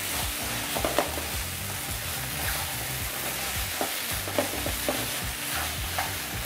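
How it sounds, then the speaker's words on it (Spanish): Broccoli and chicken sautéing in a hot pan for vermicelli, with a steady sizzle and scraping stirs and occasional utensil clicks, close and continuous with no talking. "Colocamos nuestro brócoli, lo salteamos y lo mezclamos también para unificar sabores."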